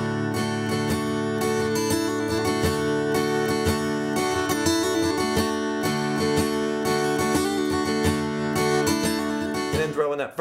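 Acoustic guitar rings out an open chord, spiced with a hammer-on and pull-off on the treble strings, steady and close for about ten seconds, with no talking.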